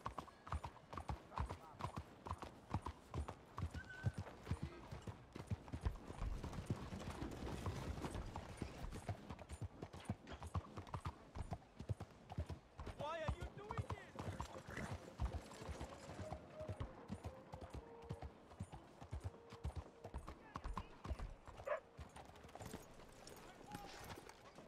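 Horse hooves clip-clopping in Red Dead Redemption 2, a steady rapid beat of hoofbeats running through the whole stretch, loud and close, with someone speaking Spanish over it and occasional mechanical clicks.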